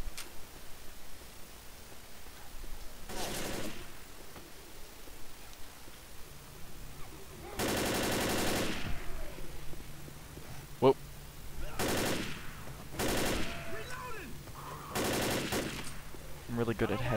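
Gunfire in the zombie shooter Left 4 Dead comes as a few short, loud bursts separated by quieter gaps, with a steady hum of game ambience underneath.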